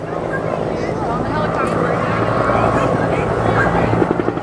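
A helicopter at a Vietnam War reenactment, a loud continuous rotor and engine roar with a steady low throb that swells slightly over time, heard outdoors with wind buffeting the microphone and talk faintly over it.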